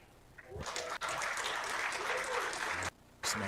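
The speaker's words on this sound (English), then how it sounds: "some applause coming from table number 1" Applause from a nearby table in a pool hall at the Las Vegas Men's Open, a moderately loud burst of clapping that cuts off briefly, then resumes, heard at some distance.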